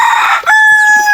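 Farm chickens with a rooster crowing loudly and close, a single drawn-out crow followed by a higher strained note and lighter clucking fading behind.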